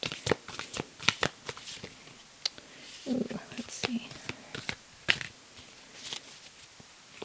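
Cards are shuffled in quick, crisp riffles and flicks close to the microphone, while a soft voice speaks briefly.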